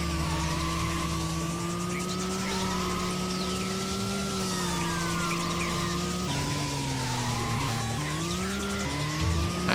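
Tires squeal in a sustained, wavering skid during a handbrake turn in the racing video game Racing Lagoon, loud and continuous over a droning car engine.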